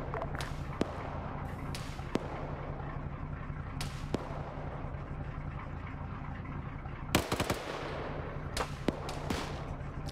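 A vehicle-mounted gun fires in a video game, sharp cracking shots spaced irregularly over a steady low hum, with a quicker cluster of bursts late on.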